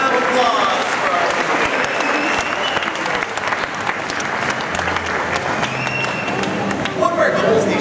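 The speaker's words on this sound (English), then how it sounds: "A round of applause for our" Sustained applause from an audience at a dolphin show in a Chicago aquarium, many hands clapping steadily and loudly throughout with a few voices mixed into the crowd noise.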